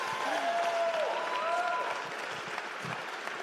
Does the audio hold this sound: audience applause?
yes